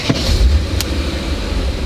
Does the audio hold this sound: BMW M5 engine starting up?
yes